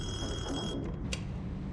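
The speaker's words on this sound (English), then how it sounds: "Stop that ringing." A telephone rings in the horror game Detention, a continuous high electronic bell tone layered over a dense, murky ambient drone, loud and unbroken before it cuts off partway through.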